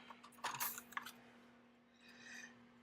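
A paper cutter slices through a thick planner cover laminated with 10 mil laminate, giving brief crisp scraping cuts early on, then a softer rasping stroke, quiet and close over a steady low hum.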